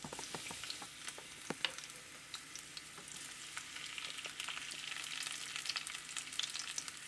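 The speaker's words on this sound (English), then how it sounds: "If you can handle the heat, open them up and let the seeds sizzle in there as well." Dried red chilies with their seeds sizzle in hot oil for an Indian khichdi topping. The crackle is soft and steady, with scattered pops and an occasional stir throughout, and no talking.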